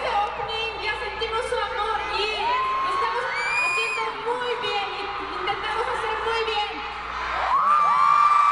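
A concert crowd at a show in Mexico cheers and screams, with shrill whoops and shouts over a constant roar that builds louder toward the end.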